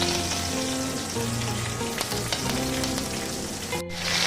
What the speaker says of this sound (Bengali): আমি কড়াইতে দিয়ে দিয়েছি সামান্য পরিমাণে তেল এবার দিয়ে দিচ্ছি সর্ষে ফোড়নের জন্য আর এর মধ্যে দিয়ে দিয়েছি আমি কয়েকটা কারি পাতা